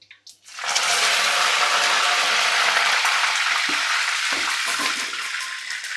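Fenugreek seeds being washed under running water, a steady close rush of water from a tap lasting several seconds after a brief clatter, with small knocks near the end and no talking.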